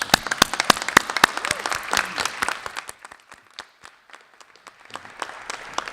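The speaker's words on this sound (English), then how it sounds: "if I could ask all of the adult education teachers, instructors, and staff that are here tonight to please stand and be applauded" A modest audience at an adult education graduation claps for the teachers, instructors and staff, distinct individual claps dense at first, then thinning to scattered claps.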